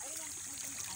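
Water flows steadily in a stream at an outdoor spot, a continuous soft trickling and rushing wash that fills the short moment without a break.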